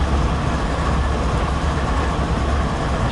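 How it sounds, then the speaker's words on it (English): A train in the Train Simulator 2013 video game on the Marias Pass route rumbles along in a constant, loud, dense roar with a heavy low engine drone and no pauses. "the train veers towards the right, passing this corner."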